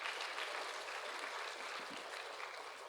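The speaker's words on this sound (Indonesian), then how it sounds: "Tepuk tangan dulu dong ya." Steady applause from an audience at a talk on challenges facing teachers, students and parents, a dense even patter of many hands holding at one level throughout.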